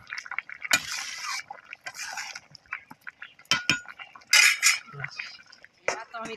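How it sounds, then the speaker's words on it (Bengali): Raw tomato curry with onion, coriander and curry leaves stirred in a pan, with spoon scrapes and metallic clinks coming in irregular bursts, close and fairly quiet, ending in a lid-like clatter. "এবার একটু নেড়ে চেড়ে ঢাকা দেব কিছুক্ষণ"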